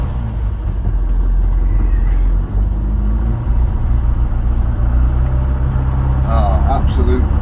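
A classic car, left undriven for about six weeks, pulls away on a windy day with a loud, steady low engine rumble and road noise throughout, and a voice briefly over it.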